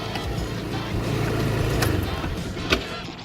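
A Qlink Siena 150cc motorcycle engine runs noisily at a high idle, a steady rough drone close by with a sharp clack near the end.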